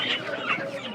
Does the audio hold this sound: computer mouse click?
no